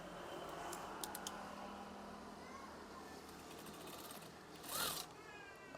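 Quiet, steady whir of a sewing machine stitching the bottom hem of a wave curtain, running continuously at low level with faint clicks and a brief louder scrape near the end.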